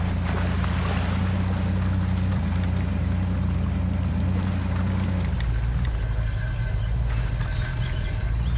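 In Spintires MudRunner, an off-road truck pushes through deep water, a low engine rumble and steady sloshing that drops lower and quieter partway through as the motor eases off.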